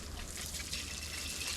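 Water poured onto a newly planted tulsi plant, a short soft trickle and splash running continuously at low volume with no voices.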